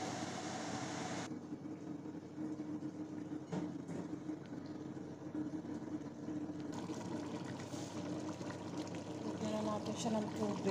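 Water is poured into a pot of meat, vegetables and tomato paste for marag zabzi before pressure cooking. It makes a soft, continuous splashing rush at low volume that shifts in tone partway through.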